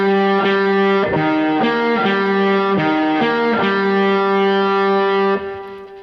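Distorted electric guitar plays a slow, marching phrase, several sustained notes in a steady rhythm, loud and close with some reverb, ending with a decaying note.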